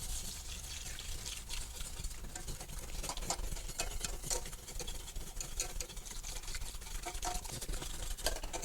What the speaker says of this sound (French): Versez hors du feu le lait froid